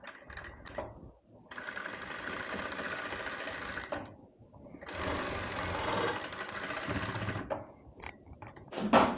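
Sewing machine stitching cotton lining cloth for a baby's yoke frill frock, running in two long steady whirring bursts separated by a short pause, close and continuous, with a few handling clicks at the start and end.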